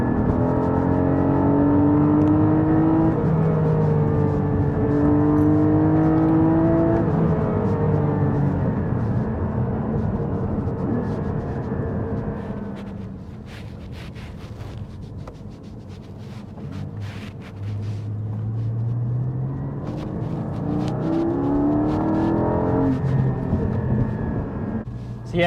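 A 2022 Porsche GT4 with a 4-litre naturally aspirated engine pulls hard through the gears, the engine note climbing in rising sweeps with a brief lull mid-run, heard loud from inside the cabin.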